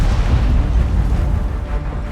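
A deep, sustained rumbling boom of a 128mm tank destroyer cannon in World of Tanks, loud and heavy with a long low-end roll-off and no talk over it.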